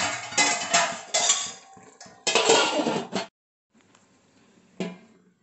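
Clattering metal pot and lid handled while chicken dum biryani is covered to cook, a burst of loud clinks and scrapes, then a pause and one final soft clank of the lid settling.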